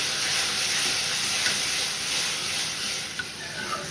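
Tomatoes sautéing in a pan give a constant close hiss and sizzle, with faint stirring clicks now and then.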